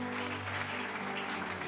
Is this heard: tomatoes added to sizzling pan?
no